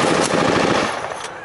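A loud blast with a rough, booming roar fills the whole moment as a bazooka is fired at a half-track during a WWII re-enactment, decaying over about a second and a half.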